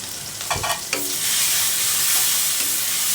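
A spice paste with chili powder fries loudly in a pan for a prawn curry, with a few sharp stirring scrapes early on before the sizzle settles into a dense, steady hiss.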